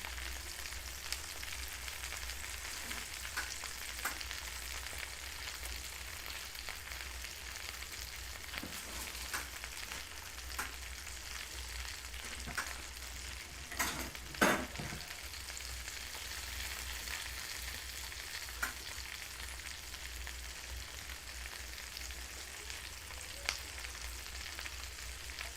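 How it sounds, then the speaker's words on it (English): Food stir frying in a pan gives a steady broadband sizzle that holds throughout, with occasional scrapes and clinks of stirring, close and moderately quiet. "While I'm stir frying these, I may have to move the pan down to the cutting board to stir them a little bit more effectively."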